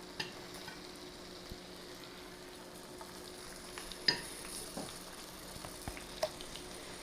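Chicken pieces cook in a pan with a faint, steady sizzle and frying hiss, broken by a few light ticks and clinks nearby, and no voices.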